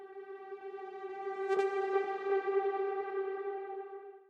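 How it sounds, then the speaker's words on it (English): A reversed synth lead holds a bright, buzzy sustained note for several seconds. It swells with a washy, echoing texture at moderate level and plays alone. "And now we've created our reverse synth."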